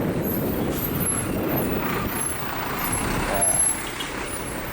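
Heavy trucks crawl in a jammed line of traffic at Juwana, Rembang, engines rumbling steadily close by with continuous road noise, and a voice speaks briefly over it.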